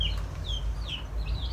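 An aseel rooster gives a few short clucks and squawky calls, close by and moderately loud over a steady low background hum.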